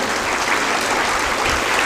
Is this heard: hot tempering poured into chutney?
no